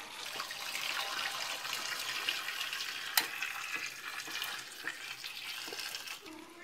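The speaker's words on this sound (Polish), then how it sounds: "Buraczki zalewam gorącą wodą." Hot water pours and splashes steadily into a pot of beets, a soft continuous rushing with faint clinks, fairly quiet and close.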